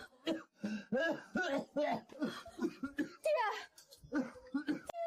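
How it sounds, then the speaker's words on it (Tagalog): Harsh, wet coughing in short repeated bursts, close and fairly loud, mixed with strained vocal sounds as someone coughs up blood. "Bakit ka na namang ubo ng dugo?"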